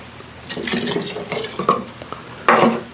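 Rye whiskey being poured into a container for homemade bitters, a brief liquid splash with glassy clinks and handling noises, close by.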